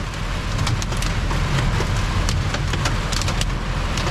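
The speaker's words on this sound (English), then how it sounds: "And now it's hailing." A dense, steady patter of hailstones drumming on a truck's metal roof during a lightning storm, with sharper individual ticks over a low engine rumble.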